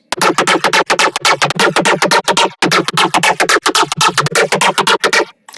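A gritty, growling neuro bass synth made in Serum 2 pumps in choppy rhythmic bursts with a brighter main synth layered over it, loud and up front, stopping briefly mid-phrase.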